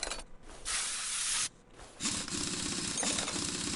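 WD-40 sprays in hissing bursts onto rusted wheel bolts in the Car Mechanic Simulator 2021 game, two short sprays then a longer steady hiss, close and clear.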